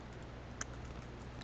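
Keys on a computer keyboard typing a web address into a browser, a steady soft patter of close, faint clicks with one sharper tap midway, heard alone without talk.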